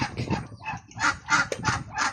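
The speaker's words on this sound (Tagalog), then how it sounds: "Kakain na yung mga manok guys." Native chickens cluck while eating, giving a series of throaty clucks and honking calls in short bursts about every half second, close and moderately loud, with soft pecking noise between them.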